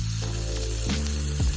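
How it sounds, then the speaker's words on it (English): A ribeye steak sears in a cast iron pan, a close, steady hiss of sizzling fat with a couple of brief clatters as it is pressed. "Now you can hear that sizzle."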